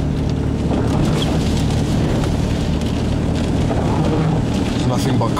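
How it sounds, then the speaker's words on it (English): Strong wind roars steadily throughout a storm chase west of Kinsley, Kansas, amid tornado and gustnado activity, with dense buffeting noise on the microphone and a constant low rumble that never lets up. "It's getting windy."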